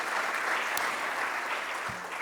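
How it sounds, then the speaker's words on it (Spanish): Steady applause from an audience at a volunteering awards ceremony, a dense, even wash of clapping filling the whole short stretch with no voices on top. "y un fuerte aplauso, porque seguro que le llegará a casa"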